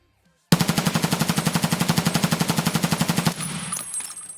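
Mk 47 rifle with BP rounds firing full auto in Escape From Tarkov: one sustained burst of about thirty rapid, evenly spaced loud shots lasting nearly three seconds, then a short ringing tail.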